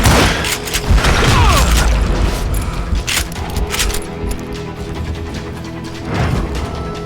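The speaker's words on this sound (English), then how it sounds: "They're shooting in the street!" Heavy gunfire fills a street shootout in the Western shooter Call of Juarez: Gunslinger, with loud, dense booming shots and rattling bursts that overlap almost continuously, plus a sharp crash near the middle.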